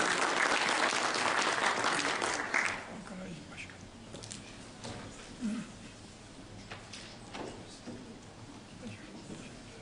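Loud applause fills a conference hall at an Adyghe language conference as the AK Party Ankara provincial chair is welcomed to the podium, then drops after a few seconds into scattered claps and a low murmur.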